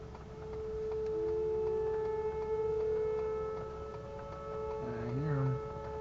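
Tornado warning sirens wail in the distance during a storm chase in Sullivan, Indiana, as a long, steady rising tone under a low rumble of wind or vehicle noise. A voice speaks briefly near the end.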